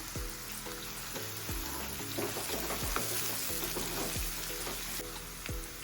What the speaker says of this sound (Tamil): இப்போ வெங்காயமும் பூண்டு கோல்டன் கலரில் ஆகட்டும்.